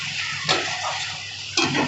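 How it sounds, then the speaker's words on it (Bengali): Poppy seeds frying in a pan for a prawn and poppy-seed dish give a steady, close sizzle, broken by two brief scraping stirs. "এরপর আমি পোস্তটা ভাজা ভাজা হয়ে গেছে"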